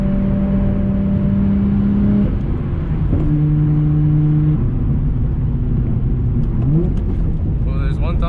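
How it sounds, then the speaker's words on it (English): A right-hand-drive car's engine revs and drops through two downshifts, tones stepping up and down close by, with a person talking over the engine noise. "there's one downshift, two downshifts, and you just go"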